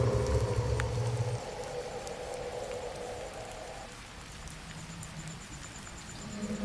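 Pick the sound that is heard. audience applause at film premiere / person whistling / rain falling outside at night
rain falling outside at night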